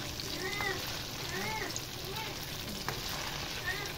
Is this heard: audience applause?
no